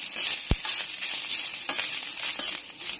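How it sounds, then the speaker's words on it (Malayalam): Grated coconut roasting in a pan for Kannur-style koottukari gives a steady, close sizzle and light dry crackle, with a few soft stirring scrapes and no talk. "കുറച്ച് ചിരകി വെച്ച തേങ്ങ ഇത് നമുക്ക് വറുത്തെടുക്കണം"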